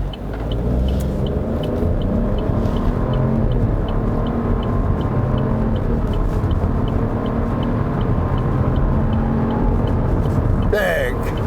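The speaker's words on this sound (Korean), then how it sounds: "짧게라도 급가속을 한번 해보도록 하겠습니다. 사륜의 레이싱 모드" A Chevrolet Trailblazer accelerating hard in AWD racing mode gives a steady, loud engine drone and road rumble that holds throughout, heard from inside the cabin.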